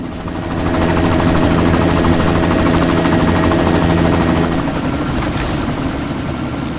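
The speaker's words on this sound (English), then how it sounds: "You've got to stop that chopper." A helicopter in the video game Deus Ex: Mankind Divided roars steadily and loudly with a thick rotor throb and engine whine, close and continuous throughout with no talking.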